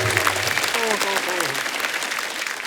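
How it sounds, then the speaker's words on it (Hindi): Studio audience applause for a stand-up comedian on an Indian laughter-challenge comedy show: steady, dense clapping fills the whole stretch, with a voice speaking over it partway through. "जोरदार तालियां"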